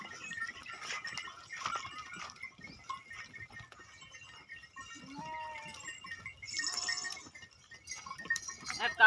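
Beetal goats and sheep bleat intermittently amid a quiet village farmyard in Bathinda, Punjab, with a few short calls, faint clinks, and some distant voices in the background.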